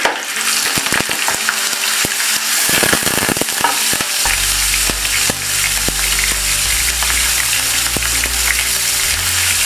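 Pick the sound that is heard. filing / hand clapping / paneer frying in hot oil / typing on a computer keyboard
paneer frying in hot oil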